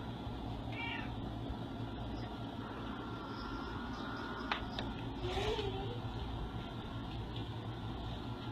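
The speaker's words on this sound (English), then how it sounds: "And there's a cat laying right there." A cat at an animal shelter gives a faint meow or two over a steady, low indoor hum, heard at a moderate distance.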